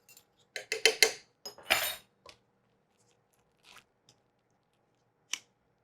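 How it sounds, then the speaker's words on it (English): Pickled jalapenos go into a pot of curry chicken soup with a quick run of metallic clinks and scrapes from a spoon against the pot. A few sparse, faint taps follow, then one last sharp clink. "We're going to add my jalapenos in."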